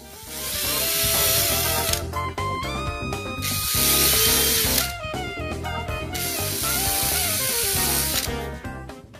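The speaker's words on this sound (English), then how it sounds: "drill the holes for the screws." A power drill bores screw holes into a sliding barn-style door for handle installation, a loud close whir in several bursts separated by short pauses.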